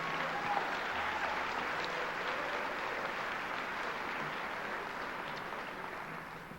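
A graduation crowd applauds at a 2002 high school ceremony, a fairly quiet, even spread of clapping across a large room that holds steady and then slowly thins toward the end.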